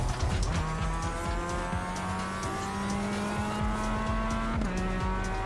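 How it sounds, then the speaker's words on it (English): Sim racing car spinning its tyres on grass to warm them, a loud sustained engine drone with rising and falling pitch and scrubbing tyre noise, continuous and close throughout. "Just warming up the tyres on the grass."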